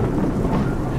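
Deep rolling thunder with steady rain falling, a dense low rumble that fills the whole second at a loud, even level, used as a dramatic sound effect in a spoken horror story.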